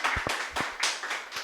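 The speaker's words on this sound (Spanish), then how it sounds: "un aplauso" An audience claps after a call for applause at an awards-style event, a short burst of several distinct hand claps spaced unevenly over a second and a half, fairly close and with no talking over it.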